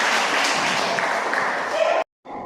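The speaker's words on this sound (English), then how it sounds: "Give a round of applause for her." A short burst of dense clapping from a class of students in a classroom, steady for about two seconds and then stopping abruptly, with a faint murmur of voices after.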